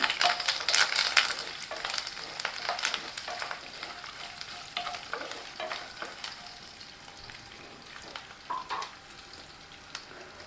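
Curry leaves crackle and spit in hot oil for tomato rice, loud sputtering pops bursting densely at first and then easing into a steadier sizzle.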